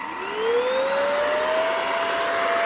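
A vacuum cleaner with a bristle brush attachment runs on a rug, its motor whine rising in pitch as it spins up and then holding a loud, steady roar close by.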